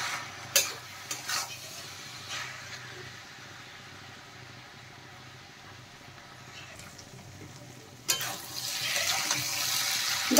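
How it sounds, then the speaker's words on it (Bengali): Mixed vegetables being stirred with vegetable masala in a pan, soft scraping strokes and a gentle sizzle through the first half, then a louder burst of stirring and sizzling near the end. "মশলা দেওয়ার পরে আরেকটু নেড়ে দিলাম"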